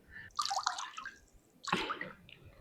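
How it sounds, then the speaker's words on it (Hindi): Water is poured into a tube in two short bursts of splashing and gurgling, close and fairly quiet, with a pause between them. "बस पानी डाल दिया हमने।"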